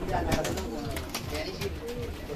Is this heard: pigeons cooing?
yes